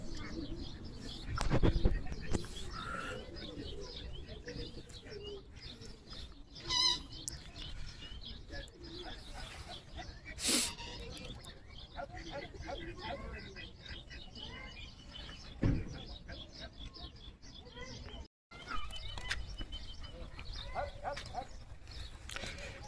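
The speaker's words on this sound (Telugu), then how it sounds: "ఇంకా పావురాలు ఇవన్నీ బాతులు అనుకుంటా చెరువు బాతులు" Pigeons coo softly against busy outdoor ambience by a pond with ducks in Riyadh, with scattered bird chirps and occasional louder noises nearby.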